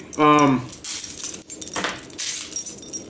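A set of keys swung and jangled in the hand, bright metallic clinks and rattles in several bursts, close by, with a dog's bark near the start.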